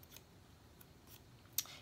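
Scissors make a few quick, faint snips through paper for a card-making project, sparse crisp cuts in a quiet room with no talking.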